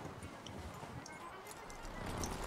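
Rhythmic hoof clip-clops from a horse at a walk in Red Dead Redemption 2, steady and moderately close, set against a busy, noisy game soundscape.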